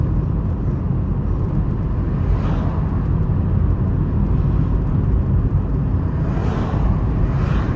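Steady car engine and road noise from inside a moving vehicle, a continuous low rumble with tire hiss filling the whole stretch, no talking.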